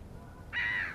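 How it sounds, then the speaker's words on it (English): A gull-like harsh call rings out over a quiet lakeside backdrop at an English estate lake, a single drawn-out cry arriving midway and holding loud and fairly close. "Watch out for the seagulls."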